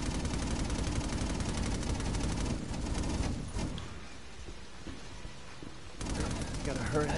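Rapid gunfire and energy-bolt blasts from the PS4 action game Infamous Second Son, loud and dense through most of the stretch, with a brief dip before the volleys pick up again, while a player talks over the game audio.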